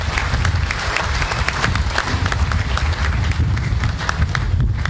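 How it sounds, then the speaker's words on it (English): An audience at a military change of command ceremony in Hawaii applauding: dense, sustained clapping from a crowd, with a low rumble underneath the claps. "please, a round of applause for the family members who couldn't make it but are here to witness this"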